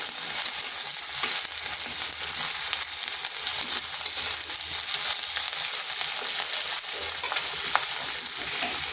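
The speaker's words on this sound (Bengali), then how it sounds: "পেঁয়াজটাকে হালকা একটু ভেজে নেব।" Chopped onion fries lightly in a pan with oil, giving a steady, even sizzle over nine seconds with a few soft stirring scrapes and no talking.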